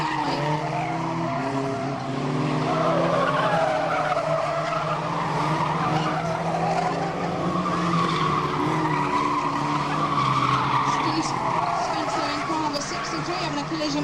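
Race car spinning and skidding at Fleet Raceway, with a steady loud roar of engines and tyre noise while a commentator talks over it throughout.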